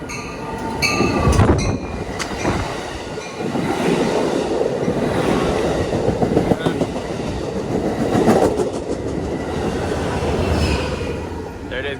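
An Amtrak or Metrolink passenger train rolls loudly past close by at San Clemente station, with rumbling wheels, rail clatter and brief squeals, while a person talks in the background.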